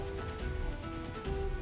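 Steady rain sound effect in a fantasy tabletop role-playing scene, falling softly and continuously over a faint sustained musical drone, with no voices.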